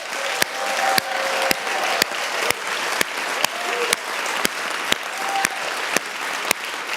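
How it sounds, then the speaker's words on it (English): Steady applause from a summit audience fills the room, a dense wash of many clapping hands holding even loudness throughout, broken only by sharp periodic clicks and a few faint voices underneath. "round of applause"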